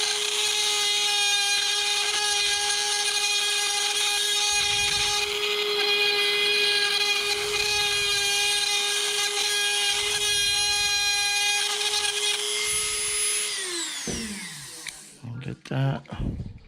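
A small high-pitched drill whines steadily while boring out the rivet of a Hot Wheels die-cast car, holding one shrill tone before spinning down at the end.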